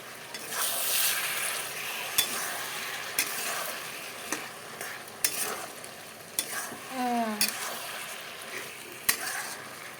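Snake gourd frying with turmeric in a pan, a steady close sizzle broken by repeated spatula scrapes and taps, with a brief spoken voice partway through.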